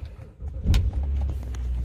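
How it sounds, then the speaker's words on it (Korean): A 2008 BMW X5 3.0 xDrive at a scrapyard starts up: a short, sharp crank-and-catch burst, then a steady, close, low engine idle settles in with no talking. "엔진 시동 잘 걸립니다."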